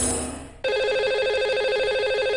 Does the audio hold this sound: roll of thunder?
no